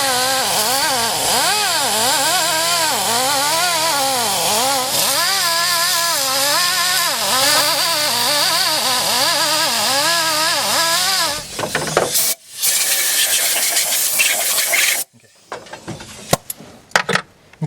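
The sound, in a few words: cleaning engine pistons with a power tool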